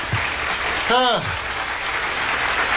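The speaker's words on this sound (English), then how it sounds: "Give some more claps" Audience applause at a live morning radio show broadcast, a steady broadband clapping wash lasting throughout, with a brief voice interjection near the middle.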